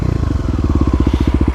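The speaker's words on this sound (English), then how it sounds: "Bike's running good." A Kawasaki KLX250 dirt bike engine idles nearby, a loud, even, rapid thumping putter that holds a steady rhythm throughout.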